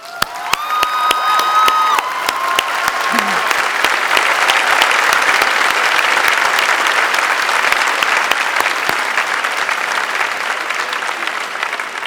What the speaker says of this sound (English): give our new graduates, their families, and friends a big round of applause